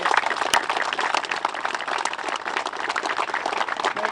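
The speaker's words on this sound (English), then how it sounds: "And we give them a round of applause too." Applause at an outdoor veterans monument and memorial dedication in Wheatfield, New York, honoring memorial sponsors: dense, steady clapping from a crowd, fairly close and sustained throughout without speech.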